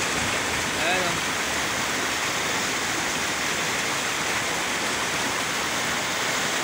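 Floodwater rushes across farm fields in a loud, continuous broadband roar, close and steady throughout, with a voice faintly heard near the start.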